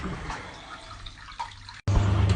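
A Tectake mini washing machine drains its water after the first wash, a close splashing, gurgling flow that steadies into a louder, continuous rush near the end.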